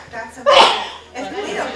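One sharp, loud sneeze bursts out in the middle of a meeting while a person keeps talking before and after it.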